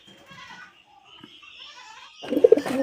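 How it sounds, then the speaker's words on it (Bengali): A red-headed white Raj Golla pigeon coos in a cage, a loud, close burst of throaty cooing arriving near the end after faint background noise. "মাদি কবুতর পাশে খাঁচায় নট ডাকতেছে ও জোড়া ধরার জন্য মাথা নিচে করতেছে"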